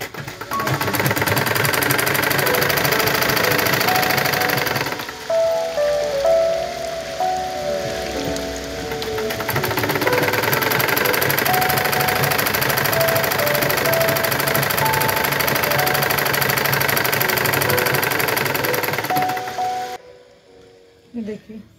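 A sewing machine stitching foam into the hem of a salwar runs in a steady, loud, fast whir for about five seconds, slows and stutters briefly, then runs continuously again before stopping near the end.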